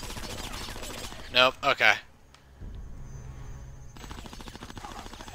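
Gunfire rings out in Conker's Bad Fur Day as shots are aimed at air vents, a quick burst of three loud cracks followed by a short ringing tail, with someone talking briefly before and after.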